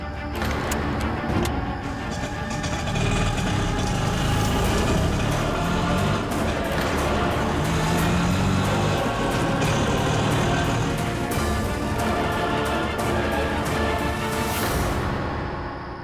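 A car driven through busy traffic, its engine a steady close rumble mixed with surrounding vehicle noise and horns, continuous throughout with no talking.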